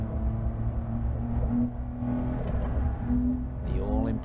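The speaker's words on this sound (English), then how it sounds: "PDK working well, giving solid downshifts. You can hear it." A 2020 Porsche 911 Carrera S with PDK gearbox downshifts on a race track, the engine note droning and stepping in pitch as gears drop, with a quick rising rev blip near the end.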